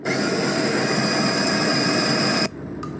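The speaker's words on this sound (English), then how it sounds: "we put the coffee bean grinder like this and sort of direct the beans into the filter and down in the cup" An electric coffee bean grinder fitted into a coffee-making PC grinds beans with a loud, steady whirring buzz that cuts off abruptly near the end, leaving a faint hum.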